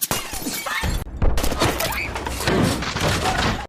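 Loud bursts of gunfire in an action film ambush scene, with sharp cracks and impacts, chaotic and continuous over a few seconds, mixed with crashing and shouting.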